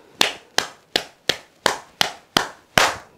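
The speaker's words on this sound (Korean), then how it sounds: "이렇게 박수를 칠 수밖에 없다." Hand clapping, eight sharp claps in a slow, even rhythm, close and distinct with no voices in between.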